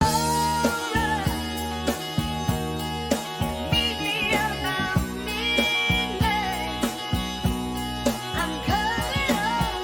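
A sample plays time-stretched to tempo and pitched up four semitones, a full, rhythmic soul arrangement of layered instruments with regular beat accents, with no talking.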